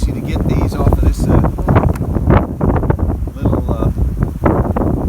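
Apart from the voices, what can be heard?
strong wind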